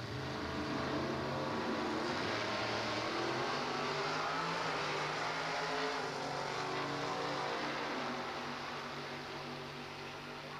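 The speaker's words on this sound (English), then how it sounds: "the 55 Chevy, the classic shoebox on the pit side, matching up with the big heavy Chevy Chevelle Super Sport on the right-hand lane" Loud, sustained engine roar from drag racing cars, a 1955 Chevy shoebox against a heavy Chevelle Super Sport, held steady for about ten seconds with no talk.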